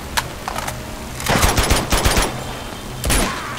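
Gunfire in the action video game Uncharted 2: bursts of rapid automatic fire in several loud clusters, with short gaps between volleys.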